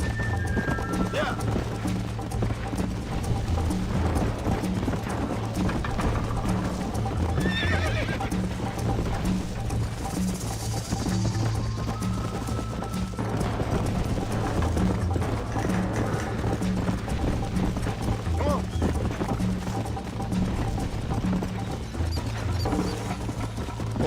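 Galloping hooves and repeated neighing from a horse in Red Dead Redemption, a steady loud clip-clop rhythm running throughout under game ambience and talk.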